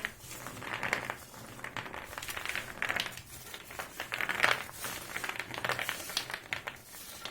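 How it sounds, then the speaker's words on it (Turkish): Plastic freezer bags crinkle and rustle as frozen homemade beef meatballs, Yozgat köfte, are bagged by hand, with irregular bursts of close crackling and soft patter and no talking. "Dolaptan çıkardık. Şimdi poşetleyeceğiz."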